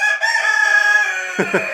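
Inside a barn holding about seven hens, one bird gives a long, drawn-out call, close and loud, ending in a couple of short clucking bursts.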